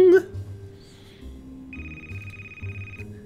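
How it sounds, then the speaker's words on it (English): An electronic phone ring from the video game Frog Detective 2, a single sustained tonal beep tone in the middle of the clip over soft background game music, after a brief voice at the start. "Pick up the phone, Barney."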